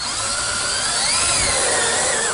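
A power drill whines steadily and close as it drives SSR1 screws into Central States Horizon Loc metal roofing panels. The motor pitch shifts slightly as the screw seats, with no talk over it.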